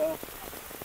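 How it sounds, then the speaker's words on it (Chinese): Heavy rain pours down steadily on a hillside trail in Hong Kong, a dense broadband wash with soft patters, heard close over a brief moment after a voice cuts off. "好大雨啊！"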